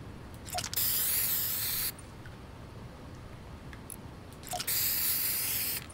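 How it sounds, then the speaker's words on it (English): Spray paint hissing in the Fortnite video game: two bursts of bright, loud hiss, each lasting over a second, separated by a quieter gap with faint clicks. "Spray it."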